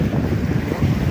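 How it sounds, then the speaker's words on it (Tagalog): Strong wind buffets the microphone outdoors, a loud continuous rumbling gust with no voices. "Hangin."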